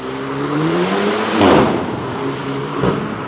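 A sports car engine revs up loud and close, swelling to a peak and easing off, then blipping again briefly, with steady engine drone throughout and no talk.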